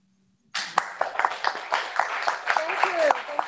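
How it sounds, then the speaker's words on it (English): An audience applauds a speaker at the close of a talk on soil strategy for development, the clapping starting abruptly and holding steady and full, with voices and cheers mixed in. "Shall we give Ismail another applause?"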